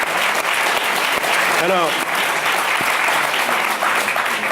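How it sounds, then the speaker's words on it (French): French television studio audience applauding, a dense, loud, sustained roar of clapping that holds steady throughout, with a man's brief spoken word cutting through partway. "Je vous demande de l'applaudir."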